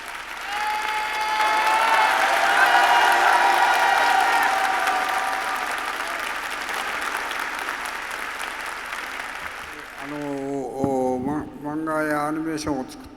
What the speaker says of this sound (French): je voudrais s'il vous plaît que vous lui fassiez un tonnerre d'applaudissements